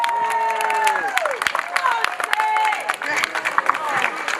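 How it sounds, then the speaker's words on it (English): A crowd at an outdoor rally in Parliament Square, Wales, applauds and cheers for a speaker named Sarah, dense clapping with whoops and shouted voices rising over it. "let's have a massive round of applause for Sarah"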